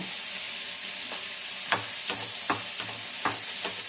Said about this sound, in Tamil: இப்போ தக்காளி கொஞ்சம் நல்லா வதக்கிக்கணுங்க.